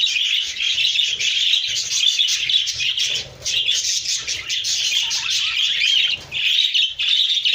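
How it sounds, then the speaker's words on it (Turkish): Dense, loud chorus of many caged birds chirping and twittering at sunrise, a continuous overlapping mass of calls with brief dips, no speech. "Kuşların hepsi coştu arkadaşlar maşallah. Bayağı bir ses var şu an."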